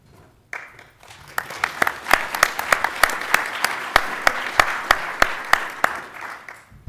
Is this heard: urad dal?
no